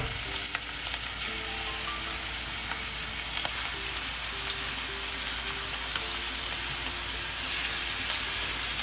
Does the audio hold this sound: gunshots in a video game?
no